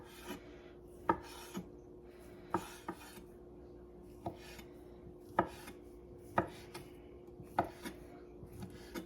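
A knife chops food on a board in a series of sharp, irregular taps, a dozen or so quiet strikes with short pauses between.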